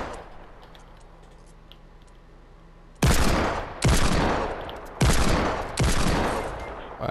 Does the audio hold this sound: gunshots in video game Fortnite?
yes